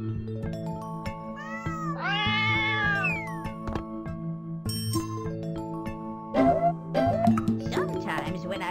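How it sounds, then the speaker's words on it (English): Cats meowing in the video game Super Granny Winter Wonderland, with several drawn-out meows in the middle over steady game music with chiming notes, then a louder cluster of short meows near the end. "Now help me rescue these cats."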